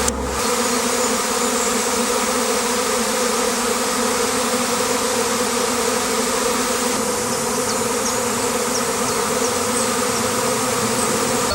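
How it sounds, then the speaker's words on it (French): A dense, continuous hum of a honeybee swarm entering a hive close by, steady and unbroken throughout, with no voices. "On voit les abeilles qui rentrent tout doucement par le petit trou."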